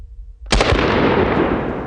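A shotgun slug blasts a watermelon apart: one sharp, loud report after a brief low hum, followed by a broad rushing spray of debris that slowly fades.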